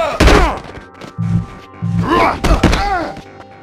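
Punches and thuds land during a brawl in The Warriors video game, with several heavy thumps and whacks mixed with grunts and groans from the fighters, loud and close.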